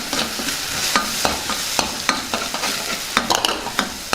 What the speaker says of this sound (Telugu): కొద్దిగా అల్లం వెల్లుల్లి పేస్ట్ వేసుకుందాం ఒకసారి కలుపుకుందాం